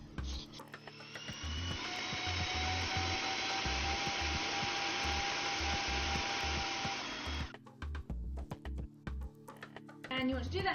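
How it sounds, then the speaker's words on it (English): A food processor runs for about seven seconds with a steady, moderately loud whirring motor drone while couscous cake mixture is blended, then stops as knocking and handling sounds follow. "so I'm going to do that with my food processor."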